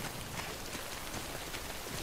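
Steady rain falls in the Death Stranding video game, a dense, continuous hiss of drops on surfaces, fairly close and even, with no talking over it.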